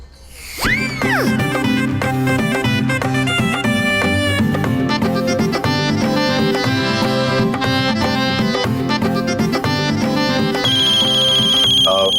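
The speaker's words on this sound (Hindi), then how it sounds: "हमारा फोन आ रहा है" A loud electronic phone ringtone plays continuously, a bright repeating melody with steady rhythm, close and alone.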